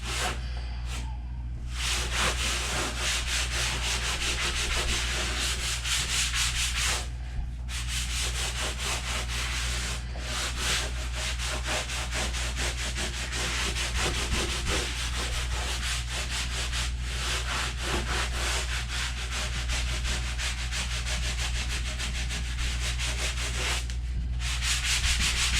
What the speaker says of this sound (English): Alright, it's all sanded.